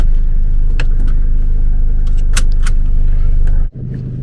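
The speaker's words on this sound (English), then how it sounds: "let's go for a quick drive in the Vito" Diesel engine of a 2016 Mercedes Vito van idles loudly and steadily up close, with scattered clicks and a brief key jangle, then a sudden dip and shift in tone near the end as it pulls away.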